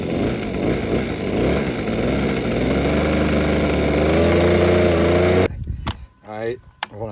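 A Stihl BG 86 leaf blower's small two-stroke engine runs steadily at warm-up speed, loud and close with a rising whine, then is cut off abruptly, leaving brief clicks and a short tail of voice.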